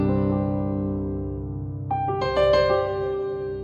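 Yamaha S90ES natural piano patch played in a Kontakt plugin without sustain pedal: a sustained low chord rings out, then a quick run of brighter higher notes enters near the end, clear and close.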